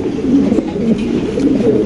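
A Giribaz pigeon coos close by in soft, repeated low throaty notes, with no one speaking.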